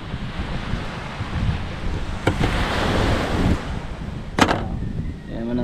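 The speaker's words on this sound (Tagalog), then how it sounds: "Yan naman ang dagat." Sea waves wash against the shore with a continuous broad roar that swells and recedes, overlaid by buffeting wind noise on the microphone, with no voices present.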